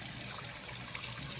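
Rinse water from brown rice is poured off, giving a soft, steady trickle of liquid that is faint and brief, with no talking.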